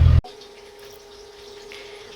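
Hot water poured off boiled soybeans: a short loud splash, then a steady, fairly quiet stream of water running out with a faint hum beneath it.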